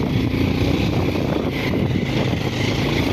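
Loud, continuous roar of a 220 cc motorcycle engine pulling on a rough road, with rough, rumbling vibration, heard up close and without any talking.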